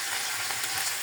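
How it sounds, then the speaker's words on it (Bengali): Chicken frying in oil for a chulay-style barbecue, a steady broadband sizzle with faint crackle, close and continuous over one short moment. "কিন্তু আমার মুরগিটা এক পাশটা ফ্রাই হয়ে গেছে।"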